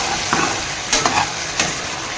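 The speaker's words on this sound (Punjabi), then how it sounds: "ਆਪਾਂ ਤੇਲ ਤੇ ਫਰਾਈ ਕਰ ਰਹੇ ਹਾਂ" Sliced vegetables frying in hot oil in a home kitchen pan: a constant loud sizzle with a few brief stirring scrapes and pops over about two seconds, close up with no talk.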